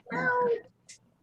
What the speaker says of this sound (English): Yeah, that was my cat.